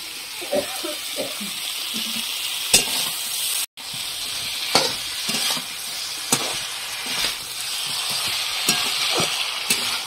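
Fried potatoes with Kashmiri red chilli powder for rohu curry sizzle loudly in oil, with repeated close stirring knocks and scrapes and a brief dropout partway through.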